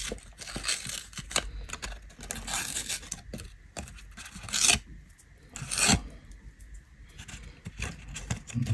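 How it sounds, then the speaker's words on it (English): Scissors cutting through a paper model of a square prism's surface development, close rasping and rubbing strokes of paper in irregular bursts with short pauses between, no talking. "So with our scissors, we take the tip out."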